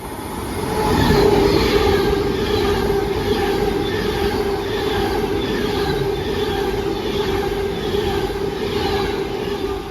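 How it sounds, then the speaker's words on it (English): An Avanti West Coast Pendolino, diverted from London Euston to Glasgow Central along the Walsall line, rolls past as a loud, sustained rumble. Wheel noise and a rhythmic clatter hold steady throughout. "we're going to have a pass on Avanti West Coast Pendulum on Divert to Glasgow Central from London Euston"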